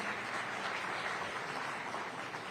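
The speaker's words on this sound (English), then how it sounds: "Let's clap for this man" A hall audience claps for the CEO of Indian Hotels at a hospitality discussion event, a soft, distant, even patter of many hands with no distinct individual claps.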